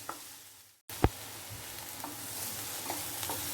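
Onions sautéing in a pan for chilli idly, a brief drop to near silence, then a sharp clack and steady close sizzling with occasional spatula scrapes.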